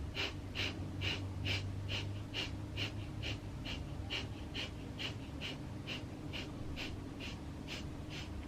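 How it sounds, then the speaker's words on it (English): A long series of short, sharp breaths, about two per second, fast and regular, heard close and clear during a rapid breathing exercise, with no voices. "Big breath in."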